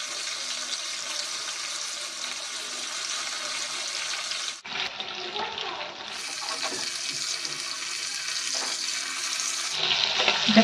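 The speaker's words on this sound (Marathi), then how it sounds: "ह्याला पण आता ह्या साईडने पण आपल्याला पाच मिनटं शेकून घ्यायचं आहे" Stuffed pomfret shallow-frying in a pan of oil, a loud continuous hissing sizzle that drops suddenly midway and then surges back, with faint clinks near the end.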